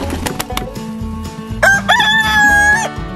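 A rooster crows loudly and close by, a long strained cock-a-doodle-doo running through the second half over steady background noise on a tropical island homestead.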